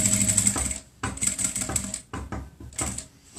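A sewing machine stitches a child's fabric protective mask in short, rapid bursts with brief pauses between runs. The whirring is close and fairly loud, with no voices.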